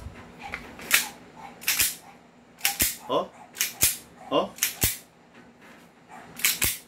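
A toy cap gun fires unevenly: about ten sharp, close cracks with irregular gaps between them, and someone talks briefly between shots.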